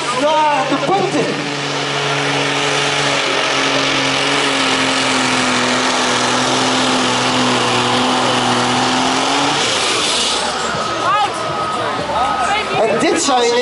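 An Iveco pulling truck at the 2018 Cromvoirt truck-pulling contest, its engine roaring loud and steady at high revs for about nine seconds, then shifting as the pull changes, with commentary running over it.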